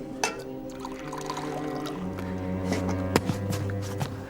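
Water poured into a glass for someone feeling faint in a room, a soft continuous trickle running under quiet background sounds and faint movement, with no speech over it.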